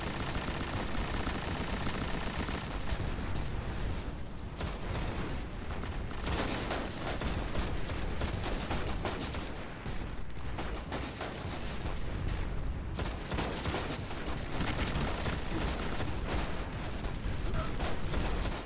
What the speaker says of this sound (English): And I'll wreck you with my LMG.